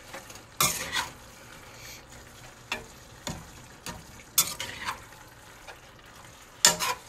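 Ground meat browns in a pan for homemade sloppy joes, a low sizzle broken by several sharp scraping stirs and clinks of a utensil against the pan, close by with no talking.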